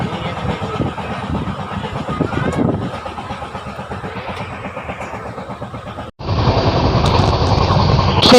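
A moving passenger train heard from an upper sleeper berth gives a loud continuous rumbling roar with rhythmic rattling, briefly dropping out before resuming even louder.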